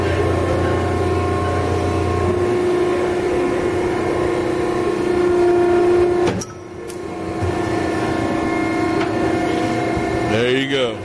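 An 80-ton Uni-Hydro hydraulic ironworker hums steadily at close range, then a single sharp clunk marks the punch driving a one-inch hole through half-inch steel, and the hum carries on afterward.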